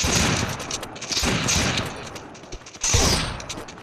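Sniper rifle fire in a shooting video game comes as loud, sharp bursts of repeated shots, with a brief lull before a final heavy crack.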